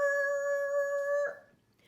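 Car tires screech as a car takes a corner too fast, a steady, piercing whine that holds for about a second before cutting off sharply into quiet.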